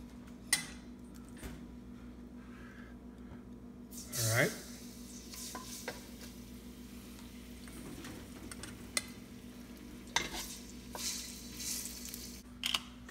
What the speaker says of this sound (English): we're gonna fry our shrimp